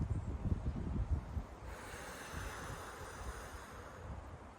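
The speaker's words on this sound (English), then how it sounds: "Just listen to the winds here." Wind blows steadily outdoors in a natural setting, a continuous rushing noise with gusty low rumbling buffeting the microphone at first, then settling into a softer, even whoosh.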